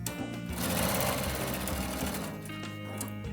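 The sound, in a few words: sewing machine back tacking a quilt seam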